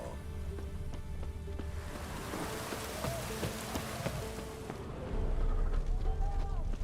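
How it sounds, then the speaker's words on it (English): A heavy downpour in the video game The Witcher 3: a dense, continuous hiss of rain with scattered drop impacts. A deeper rumbling swell comes in toward the end. "Downpour."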